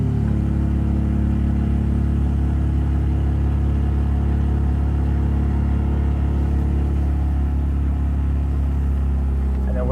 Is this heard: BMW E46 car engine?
yes